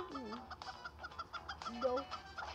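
A chicken in the physics crash game Turbo Dismount clucks repeatedly in a choppy, bobbing rhythm, moderately close with some faint background noise.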